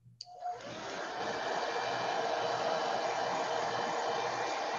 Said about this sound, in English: We can use a hair dryer to dry it faster.